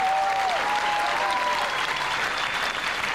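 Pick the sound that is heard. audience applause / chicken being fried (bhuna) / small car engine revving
audience applause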